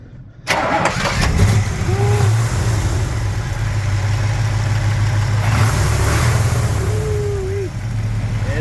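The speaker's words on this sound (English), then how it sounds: "maybe we can get this thing fired up and give people a little taste of that Chevrolet power" A 1967 Chevrolet Caprice with a 427 big block V8 cranks and fires up abruptly, then settles into a deep, loud, rumbling idle with brief blips, while people talk faintly nearby.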